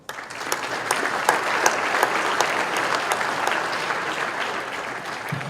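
A crowd at an industry gathering gives a round of applause, dense and even clapping from many hands that holds steady throughout, loud and with no talking over it.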